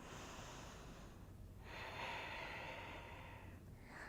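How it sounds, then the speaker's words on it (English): A person breathes deeply during a yoga spinal twist: a faint, close, airy exhale then a longer breath, quiet and alone. "Take a deep breath in and out."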